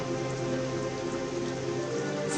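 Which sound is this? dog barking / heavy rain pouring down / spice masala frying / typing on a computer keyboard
heavy rain pouring down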